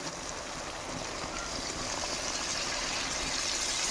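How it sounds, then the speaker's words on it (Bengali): Water is poured into a pan of cooking duck meat with chopped onion and green chilli, making a continuous soft splashing trickle for a few seconds. "এখন হালকা পরিমাণ পানি দিয়ে দেব পানি"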